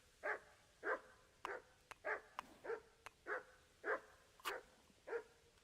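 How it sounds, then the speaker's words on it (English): A dog barks repeatedly in Kingdom Come: Deliverance II, about ten evenly spaced loud barks over several seconds with faint in-game background, no talk. "What the hell's my dog doing?"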